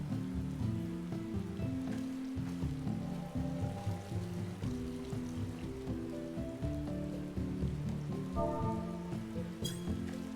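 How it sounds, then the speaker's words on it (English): Steady rain patters in a Final Fantasy XIV game scene, a soft, even hiss running under gentle game music for the whole stretch. "out here getting wet in the rain."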